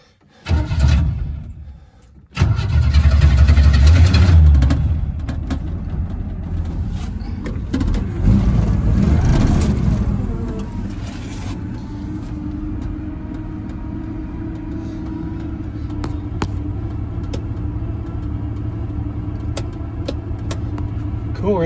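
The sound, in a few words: old barn find car engine starting and running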